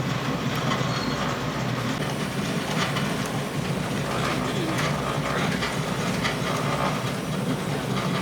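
An Arkansas & Missouri Railroad passenger train rolls across a trestle, a steady loud rumble with rail clatter and hiss heard from on board, continuous throughout.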